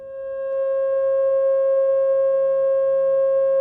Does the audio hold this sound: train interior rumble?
no